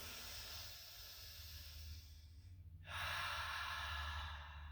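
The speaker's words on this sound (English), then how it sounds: "Inhaling through your nose and exhaling through your mouth to begin with." Deep, slow breaths drawn in through the nose and let out through the mouth, heard as airy hissing close to the mic, one long exhale followed by a fuller, louder rush of breath.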